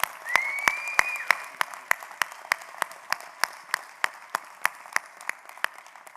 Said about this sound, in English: Please, a round of applause for the PAC team